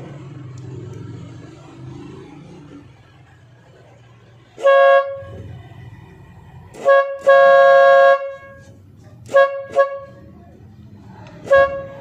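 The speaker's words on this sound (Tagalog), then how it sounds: "susubukan nating i-direct yung busina niya kung gagana ba talaga." A car horn wired directly to power during a fault check for a bad relay gives several loud toots over a low hum: one short blast, a long sustained honk, two quick beeps, then a final short blast.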